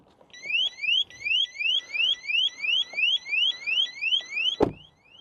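A Keep car alarm system being tested on a truck blares a loud, repeating rising siren whoop, about a dozen sweeps in steady rhythm, with a sharp bang near the end.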